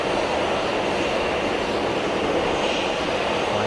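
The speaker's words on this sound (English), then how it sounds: "KLM rocking up to the stand." A KLM airliner taxis up to the stand at Geneva Airport, its steady broadband jet engine roar loud and close, holding constant throughout with no talk.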